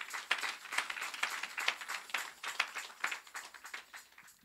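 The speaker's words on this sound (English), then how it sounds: "let's give a round of applause to Jesus" Guests at a wedding ceremony clap by hand in a quiet, uneven patter of many overlapping claps that carries on steadily for several seconds.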